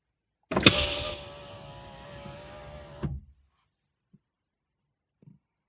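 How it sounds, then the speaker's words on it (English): A car's passenger-side power window motor runs for about two and a half seconds with a steady electric whir, starting and stopping with soft clunks, close by and with no talk. "it's gonna activate the passenger side motor for the window for 2 seconds"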